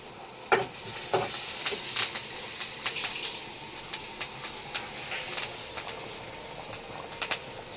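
Small onions, curry leaves, cinnamon and dried chillies frying in a pan, giving a steady close sizzle and hiss with occasional sharp pops and crackles scattered throughout.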